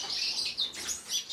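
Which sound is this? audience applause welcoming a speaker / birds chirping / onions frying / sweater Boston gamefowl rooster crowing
birds chirping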